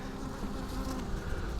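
Dense, steady buzzing of many honeybees close up inside a newly started hive, a continuous drone with no pauses and no voices.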